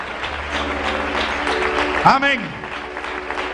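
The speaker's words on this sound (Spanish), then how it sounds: "Fuerte ese aplauso de bienvenida a la familia del Señor." A church congregation at a new temple's inauguration and anniversary service gives a fairly soft, steady round of welcoming applause. A voice speaks over it and briefly calls out a single word partway through.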